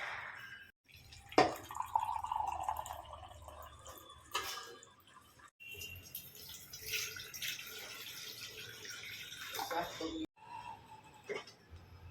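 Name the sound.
water poured for making tea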